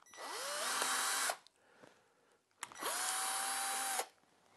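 A power drill countersinks an MDF board in two bursts: each run spins up with a rising whine, holds a loud steady buzz for about a second and a half, then stops, with a quiet pause between.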